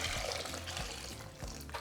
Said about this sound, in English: We're just going to cover them with water